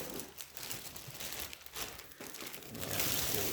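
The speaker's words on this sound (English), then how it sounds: "let's unwrap the other boot" Plastic wrapping being pulled off a brown full quill ostrich western cowboy boot, close crinkling and crumpling in irregular bursts that grow louder toward the end.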